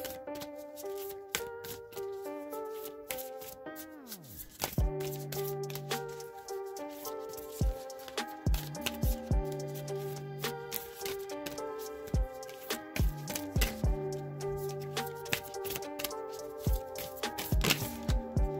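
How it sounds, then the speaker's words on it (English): Oracle cards being shuffled repeatedly, crisp riffling bursts and taps close by, with a sustained musical tone ringing underneath throughout. "So now I'm going to shuffle and get a third card"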